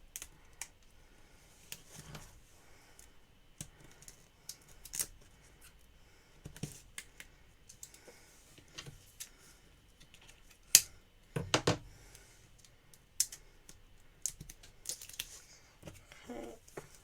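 Scissors snip through adhesive foam sheet at a crafting desk, a run of short, light crisp cuts with small rustles between them, close and fairly quiet with no talking.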